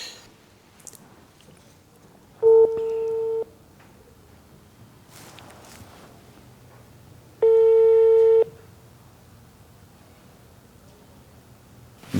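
A telephone busy tone on a call-in line during a Ramadan radio-style program: two steady, evenly pitched beeps about a second long, several seconds apart, over a low background hum with no talk.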